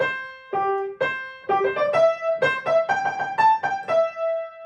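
A short piano melody of evenly spaced single notes played at a steady, straight rhythm, clear and close, with no talking.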